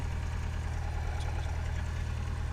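A light aircraft engine idles at 1200 RPM during pre-flight power checks, a steady low throbbing drone that holds even and continuous throughout.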